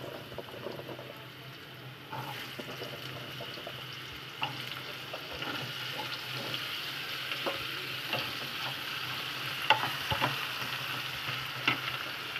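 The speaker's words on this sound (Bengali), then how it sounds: "এবার আমরা আলুগুলো ভাজবো।" Cut potato pieces fry in a pan with a continuous bright sizzle, hissing and crackling steadily throughout with a few louder pops and spits.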